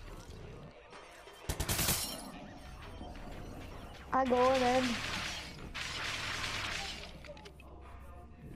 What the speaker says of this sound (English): I'm shooting for the glass door.